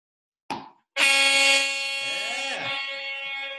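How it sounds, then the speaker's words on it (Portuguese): A cruise ship's horn sounds as the vessel leaves port: a short blast, then a loud, sustained deep tonal blare held for several seconds, close and dominant. "Escuta a buzina do navio aí, campeão. É o navio zarpando, é o navio saindo do porto."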